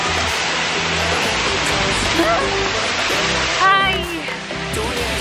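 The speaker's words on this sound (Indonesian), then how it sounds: "aku lagi di air terjun Coban Putri" The Coban Putri waterfall near Batu, Malang, roars as a constant broadband rush close by, with a person briefly speaking over it.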